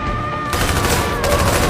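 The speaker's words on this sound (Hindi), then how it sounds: "सोनिया गोलियां बरसाती हुई अंदर एंट्री करती है।" Gunfire in an action movie scene as a woman bursts inside shooting, a dense rattling burst of rapid shots over a loud, continuous background, close and intense.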